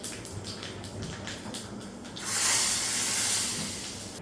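Mustard seeds crackle in hot oil as a tempering for paruppu rasam: scattered small pops at first, then a loud, steady sizzling hiss that swells and slowly fades, with no talking.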